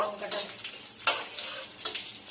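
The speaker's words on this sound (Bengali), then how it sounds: "জল দিয়ে দেবো, একটুখানি জল দিয়ে দেব" Water poured into a pan of frying bay leaves, whole dried chillies and cardamom for Bengali khichuri gives a hissing splash and sputter, with a few sharper bursts as it hits the hot oil.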